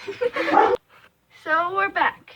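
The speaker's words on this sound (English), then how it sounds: "Yeah, that's my dog." A pet dog indoors in a brand new house gives a few short yips and whimpers close by, in brief bursts between and under a person talking.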